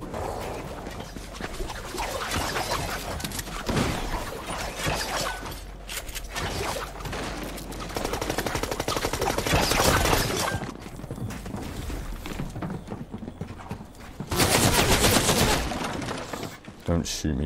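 Shotgun blasts and other gunfire in a Fortnite battle royale match ring out repeatedly amid dense game noise, loud and busy throughout, with a player talking over it.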